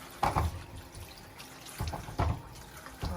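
Water splashes in short, close bursts as cracked oranges are rinsed by hand. About three separate sloshing pulses rise over a quiet trickling background, with no speech.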